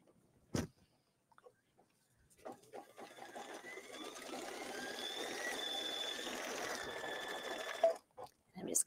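A Brother Luminaire embroidery sewing machine stitches steadily for about five seconds after a few soft clicks and handling noises, its rapid needle whirr fairly close and even before stopping abruptly.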